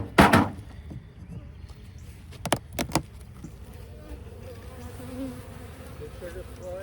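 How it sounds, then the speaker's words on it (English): Honeybees buzz around an open hive in a low, faint, steady hum, with a few sharp clicks and knocks near the start before the droning continues alone. "A lot of bees in this area."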